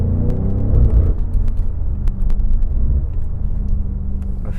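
A BMW F90 M5 Competition cruising in comfort mode hums with a low, steady engine and road rumble from inside the cabin, rising briefly at the start and then settling to an even drone.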